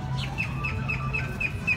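Birds gathering at Disney Springs to be fed make repeated short chirps and clucks in a quick, steady series, moderately close, over outdoor background noise without speech.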